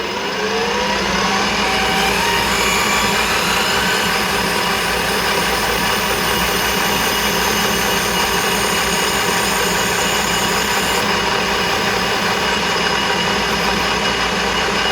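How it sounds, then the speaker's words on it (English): A steady, loud mechanical whir with a high whine runs without a break, like a machine drill boring into metal up close, during an HIF44 carburettor rebuild, with no speech. "And we drill down to full depth."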